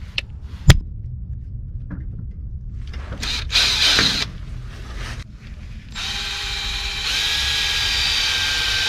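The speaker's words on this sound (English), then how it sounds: "start drilling, see what happens" A power drill works on the rear track bar of an RV, whining in short bursts at first. After several seconds it settles into a louder, sustained high-pitched grind. No talk is heard.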